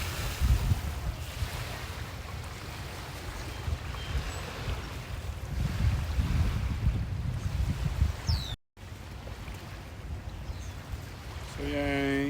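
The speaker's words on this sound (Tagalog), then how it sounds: "So yan, ito yung dagat." Sea waves washing onto a shore along a holiday coastline, a steady broad rush with surging swells and wind buffeting the microphone, mostly alone and continuous throughout.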